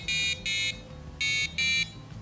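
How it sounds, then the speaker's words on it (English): A piezo buzzer sounds four steady single-note beeps in two pairs, each about a quarter second long, bright and close, with a faint low hum underneath. "After looking around for a bit, I settled on using a piezo buzzer."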